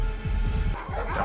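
A dog on a film soundtrack barks in a quick series of yappy, fairly close woofs with slight whimpering edges, the rhythm uneven and the noise filling the moment without speech over it.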